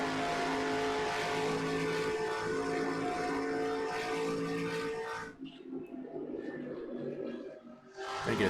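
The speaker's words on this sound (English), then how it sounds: "Man, big wad of cars right here." A pack of race cars roars past in a racing video game, a dense, loud engine drone that holds steady and then drops away abruptly, leaving quieter, thinner engine sound afterward.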